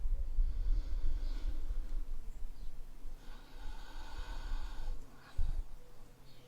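Deep slow breaths while resting in child's pose during a yoga flow class, soft and close, a few long breathy inhales and exhales with a quiet snort-like exhale near the end, no talking.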